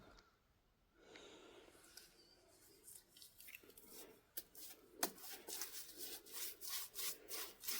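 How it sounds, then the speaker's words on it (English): A brush strokes paint stripper onto a painted Crossley engine part, giving soft, close rubbing and scraping swishes that start faint and grow into steady rhythmic strokes with a few sharp taps. "I'm just brushing this stuff on"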